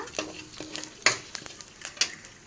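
Spices fry in a pan for tomato rice while a spoon stirs them, making a series of quick scrapes and light clinks over a faint sizzle, close and irregular.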